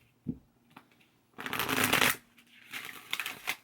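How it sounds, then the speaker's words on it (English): Oracle cards being shuffled by hand: a soft tap, then a long riffling flutter of cards lasting under a second, followed by lighter shuffling and taps, close and quiet. "Let's pull a couple oracle cards."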